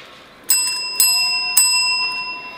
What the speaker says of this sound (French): je vais vous parler de l'arme secrète de Madame, la sonnette